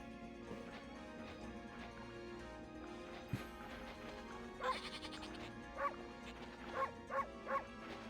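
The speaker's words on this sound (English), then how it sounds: "Barking at the sheep." A wolf in the video game Okami HD barks several times at sheep in short, sharp bursts near the end, over steady in-game background music, with sheep bleating.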